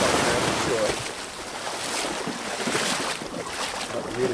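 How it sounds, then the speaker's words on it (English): The sea surges at high tide around a raft off Speightstown, a broad wash of waves and rushing water mixed with wind buffeting the microphone, steady and close throughout. "A little bit of a surge here going on. It is high tide."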